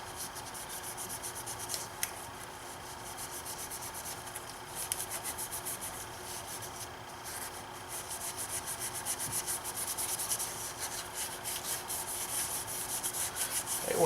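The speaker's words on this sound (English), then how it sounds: "once you go over it with a little bit of Scotch-Brite" Scotch-Brite pad scrubbing a part on a BMW N52 six-cylinder engine, a faint, steady rasping rub that continues without a break and has no talking over it.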